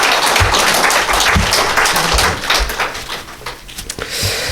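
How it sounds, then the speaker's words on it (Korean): A church congregation bursts into loud, dense applause for the fathers. It holds strong for a couple of seconds, then thins into scattered, fading claps. "아버지들 위해서 우리 박수 한번 쳐야 됩니다."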